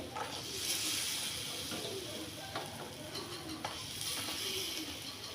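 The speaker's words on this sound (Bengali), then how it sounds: "এই চিনির শিরার মধ্যে গরম গরম মিষ্টি দিয়ে দিচ্ছি। দেখো গরম মিষ্টি দেওয়ার সঙ্গে সঙ্গে আওয়াজ আসছে।" Hot gulab jamun sweets made from puffed rice dropped into sugar syrup, giving a continuous close hiss and sizzle with a few bubbling pops, no talk over it.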